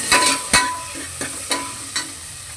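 Spices sputter and crackle in hot oil as a tempering for sambar is fried in a home kitchen, with a few sharp stirring knocks of a spoon against the pan cutting through the steady sizzle.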